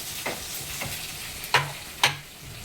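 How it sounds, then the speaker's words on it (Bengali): Chopped onions fry in a pan with a soft continuous sizzle, broken by several scraping stirs, two of them sharper and louder near the end, heard up close with no voices. "এখানে এখন দিব পরিমাণ মতো পেঁয়াজ কুচি।"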